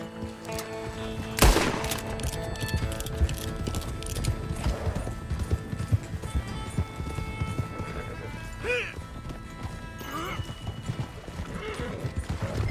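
Rapid clip-clop of galloping hooves runs throughout Red Dead Redemption 2, with horses neighing and shouting voices over a busy, dense mix.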